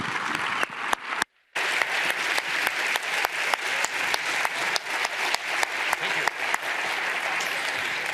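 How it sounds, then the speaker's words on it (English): An audience at a tax symposium applauds the panelists and moderator: dense, sustained clapping from a large hall crowd, steady and even after a brief gap near the start. "I think the panelists have deserved a round of applause"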